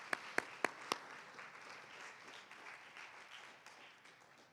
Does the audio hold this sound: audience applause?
yes